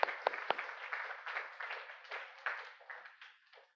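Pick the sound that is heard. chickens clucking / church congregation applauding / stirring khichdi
church congregation applauding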